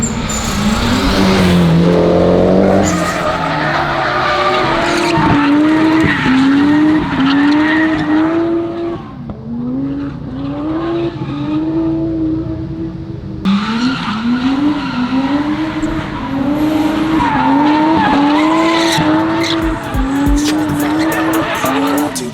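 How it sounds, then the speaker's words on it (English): A drift car skids hard with tires squealing in long sustained wails that rise and fall with engine revs, loud and close, briefly easing midway before resuming at full intensity. "Tires are being fried nicely."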